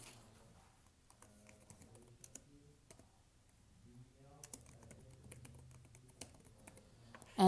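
Soft, irregular keystrokes on a computer keyboard as a name is typed, quick clusters of clicks with brief pauses, close and quiet with faint speech nearby.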